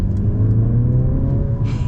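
The 2-liter four-cylinder engine of a 2023 Mercedes C300 rises in pitch as the car accelerates, a close, loud, steady hum with no talk.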